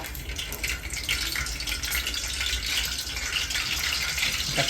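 Curry leaves sizzling and spitting in hot oil for an Agri Koli style umbar (fig) vegetable, a steady dense crackle that holds close and loud throughout with no talk over it.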